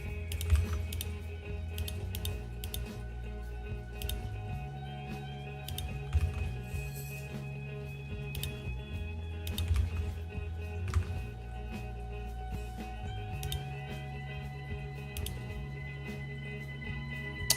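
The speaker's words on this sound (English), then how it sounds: "You enjoy typing sounds?" Steady typing on a computer keyboard, quiet irregular clicks and taps running throughout under a low background hum, with no talk.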